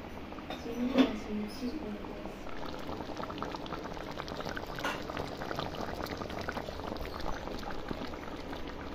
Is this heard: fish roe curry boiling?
yes